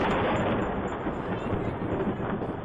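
In the Zombie Tower game on iPad, cannon towers fire at zombies, making a dense, continuous barrage of booming shots that merge into a loud rumble.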